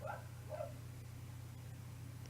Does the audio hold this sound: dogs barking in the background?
yes